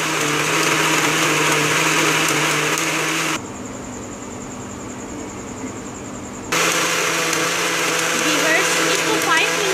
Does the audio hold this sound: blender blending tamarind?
yes